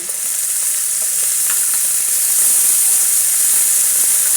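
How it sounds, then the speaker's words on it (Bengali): Potatoes and eggplant fry in hot oil with a steady, dense sizzle that holds close and even throughout, with faint stirring scrapes and no talk. "আলুগুলো দিয়ে দিয়ে দিচ্ছি তো বেগুন কাটা আছে আগে থেকে বেগুন দিয়ে দিচ্ছি"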